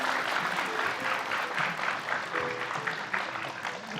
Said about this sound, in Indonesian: Oke, tepuk tangan dulu kalau gitu.